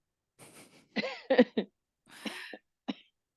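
Several short, harsh coughs in two bursts with brief pauses between, close to the microphone and fairly loud.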